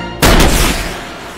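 A sudden loud burst of gunfire erupts during a movie shootout between police and gangsters, with a heavy blast decaying into echoing reverberation.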